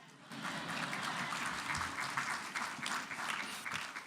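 An audience at a college scholarship celebration applauds in a steady, fairly faint wash of many hands clapping. It rises quickly and carries on with no speech over it.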